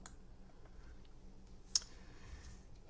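A single sharp mouse click on a Gkrellm system monitor menu item rings out once near the middle, close and crisp, over a quiet faint room hiss with no talking.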